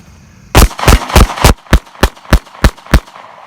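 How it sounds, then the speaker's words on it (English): A SCCY CPX-2 9mm pistol fires about ten rapid shots, each a sharp, loud crack in a fast, slightly uneven rhythm, alone with no voices. "20 rounds as fast as I can pull the trigger."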